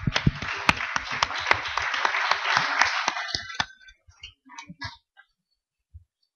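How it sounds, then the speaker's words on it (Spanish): An audience at a discussion session applauds after a talk, a dense burst of clapping that thins out into a few scattered claps before stopping. "Aplaudimos, Pablo."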